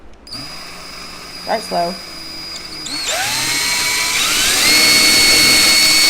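A power drill bores into painted wood, starting with a brief low whir, then winding up from about three seconds into a loud, steady, rising whine that holds to the end. A person speaks briefly near the start.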